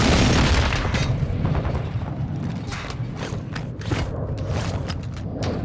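Heavy booming blasts of an enemy precision airstrike in Call of Duty: Modern Warfare II, a dense rumbling barrage of thuds and bursts that stays loud for several seconds with no pause.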